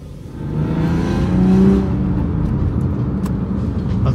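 A Lexus IS200 engine revs while driving, a steady close drone that swells and rises in pitch then settles into an even cruising hum, heard from inside the car.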